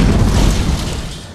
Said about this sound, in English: there was a bang, and I heard a sound like thunder